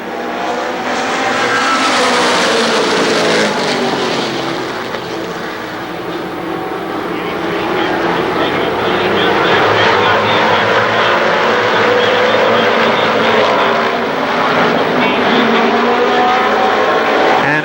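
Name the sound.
late model stock cars racing down the front straightaway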